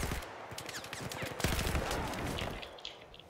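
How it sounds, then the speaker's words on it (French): Dense bursts of gunfire from a Battlefield 4 competitive match, rapid overlapping shots and rattling automatic fire throughout with a heavier blast midway, loud and busy with no clear talk. "Oh, David, gros double kill ici encore"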